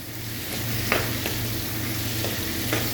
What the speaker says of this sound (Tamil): வெங்காயம் நல்லா வதங்கிட்டு இப்போ தக்காளி சேர்த்துருக்காங்க. நல்லா கிண்டி விட்டுருக்காங்க.